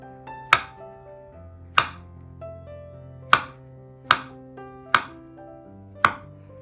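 A knife cuts a ripe banana into thick rounds on a board, six sharp separate chops spaced about a second apart, each landing with a crisp knock, close and clear, with no voices.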